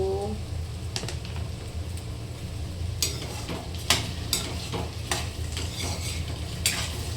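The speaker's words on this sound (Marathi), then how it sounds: "चला आपण आता मस्त बटाटा टाकून घेऊया" Potato pieces fry and get stirred in a pan, with a soft steady sizzle under several sharp scraping and clinking strokes of a utensil against the pan.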